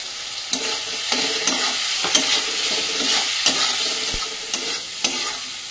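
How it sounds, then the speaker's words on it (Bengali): Prawns fry in hot oil with turmeric and ground cumin, giving a steady close sizzle broken by regular scraping knocks of a spoon stirring the pan, with no voices. "চিংড়ি মাছটা এর মধ্যে তেলের মধ্যে একবারেই দিয়ে রান্নাটা করছি"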